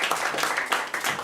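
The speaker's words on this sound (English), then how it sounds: "let's give a round of applause for our MC and chief fundraiser" Audience applause at a temple rebuild fundraising dinner, a brief dense wash of clapping with no clear talk.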